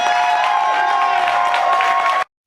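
Crowd in Bel Air applauding and cheering for the coach after a Baltimore sports talk event, a steady wash of clapping and voices at close range that cuts off abruptly.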